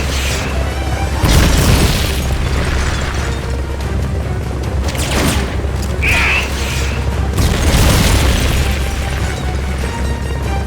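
Explosions and booming blasts from a missile launch in the video game Metal Gear Solid Peace Walker, several loud bursts over a steady low rumble, with faint voices now and then.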